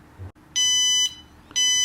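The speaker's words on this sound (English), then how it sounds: "a sound is reproduced by the buzzer" An electronic buzzer on a ZERO1 smart board gives two loud, steady high-pitched beeps, each about half a second long and a second apart, over a faint background hum.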